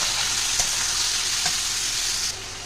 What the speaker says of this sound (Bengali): তো এবার আমি এটা ভালো করে ভেজে নেবো।